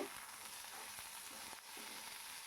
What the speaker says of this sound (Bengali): দেখো একটু নাড়ি চাড়িয়ে নিলাম খুন্তি সাহায্যে